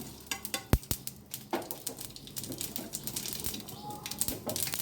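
Ingredients for fruit raita frying and being stirred in a pan, with quick taps and scrapes over a steady soft sizzle, heard close.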